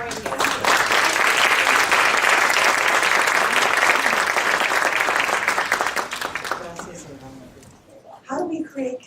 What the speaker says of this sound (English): give a round of applause for a visiting scholar and guest.